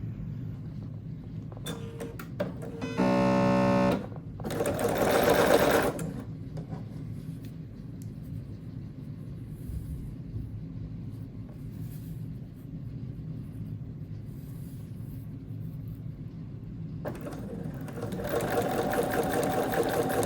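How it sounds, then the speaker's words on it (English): A sewing machine runs in short bursts while sewing quarter-inch seams on quilt patches: a buzzing run early on, another near the end, with quiet handling noise between and no talk. "As you set up your machine, you'll want to make sure that you're actually sewing 1/4 inch seams."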